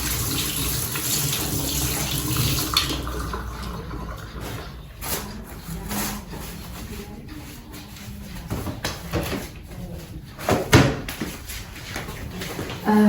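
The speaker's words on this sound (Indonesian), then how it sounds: "Kemudian mencuci air mengalir, kemudian keringkan menggunakan tisu." Tap water runs steadily into a sink while hands are washed, with splashing that shifts in level and a few knocks and clatters, recorded close by.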